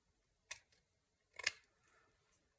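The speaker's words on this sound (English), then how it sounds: "I have my pinking shears here" Pinking shears snip through print paper in two quiet, crisp cuts about a second apart, the second a little longer, in an otherwise hushed room.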